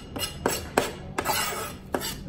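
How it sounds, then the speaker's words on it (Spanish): A spoon stirs onion in a bowl for Nicaraguan vigorón, giving a steady, close scraping with regular metallic clinks every half second or so and no talking. "ya introducimos la cebolla y está mezclándola bien"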